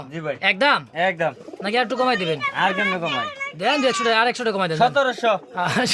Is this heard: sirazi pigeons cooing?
yes